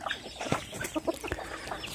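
Crossbred fighting chickens cluck in a farm coop at feeding time, with a rooster among them; short overlapping clucks and calls come close and moderately loud in quick succession, with no talk.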